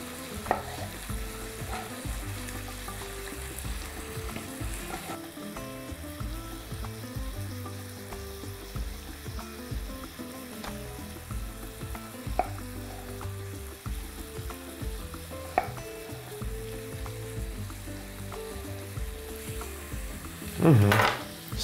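Pear pieces caramelize in a pan with a soft, continuous sizzle and bubbling, broken by occasional light utensil clicks and a louder scrape near the end.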